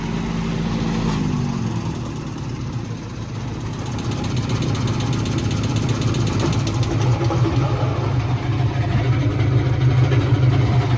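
An MTZ tractor engine idles nearby with a steady low rumble that holds constant throughout, no other sounds standing out.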